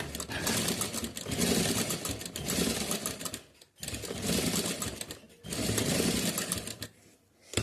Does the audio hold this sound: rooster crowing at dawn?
no